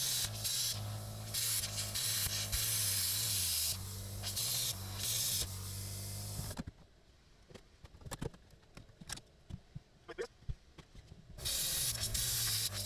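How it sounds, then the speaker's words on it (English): A small Parkside plasma cutter slices through thin car body steel with a loud, harsh hissing roar, cutting out for a few seconds of quieter crackles and pops before the hiss resumes. "The plasma cutter is a little one I got from Lidl. It's Parkside and it's not too bad."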